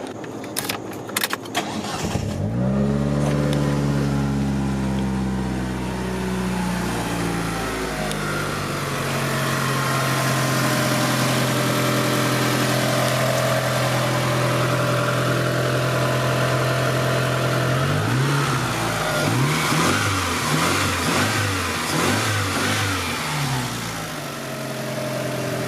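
A 1988 Mitsubishi Galant VR4 engine starts after a brief jangle of keys, then settles into a steady idle with several revs that rise and fall, heard up close and without talk.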